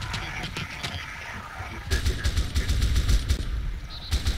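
Gunfire in a realistic war simulator video game, heard as rapid bursts of automatic shots and repeated sharp cracks, some nearer and louder, mixed with distant firing and brief voices.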